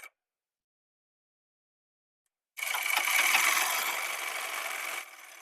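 After a stretch of silence, a sewing machine stitches a shirt shoulder seam in one continuous whirring run lasting a few seconds, close and steady, then drops to a softer hum as it stops.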